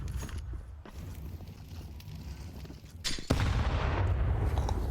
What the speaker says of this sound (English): Frag grenade chips away at this pack from Virtus.pro.